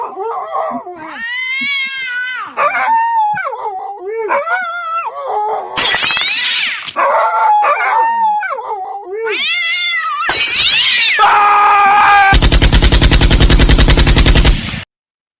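Cartoon cat meows and yowls from a Kitty Man slot game, a run of stylised mewing calls followed by loud electronic bursts, rapid rattling effects and a dense buzzing jingle toward the end.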